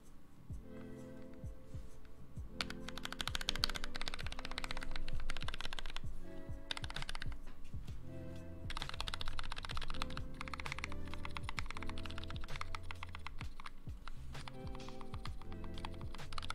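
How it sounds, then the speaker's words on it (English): Continuous typing on a MiniVan custom mechanical keyboard fitted with Gateron yellow switches, dense rapid clacking keystrokes in bursts with brief lulls, close and faint, with no talk. "Keys are kind of weird. I feel like the top row is banging into the case."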